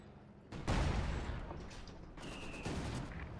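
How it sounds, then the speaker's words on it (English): Artillery barrage rumbles in Company of Heroes 2 during a Battle for Berlin match, a heavy blast swelling into a sustained low roar with a second surge later, dense and continuous. "we're going to see it do some barrages here"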